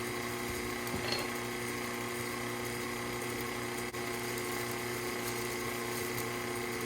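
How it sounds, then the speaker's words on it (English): An electric mixer beating keto pound cake batter at medium-low speed, a steady close motor whir and hum holding evenly throughout with barely any change, no talking. "while the mixer beats on a medium-low speed"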